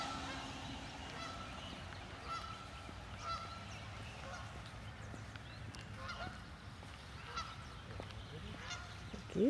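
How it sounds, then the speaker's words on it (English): Geese honking repeatedly at a distance during a morning walk outdoors, faint overlapping calls over steady background noise, with no talk. "Geese are quite loud this morning."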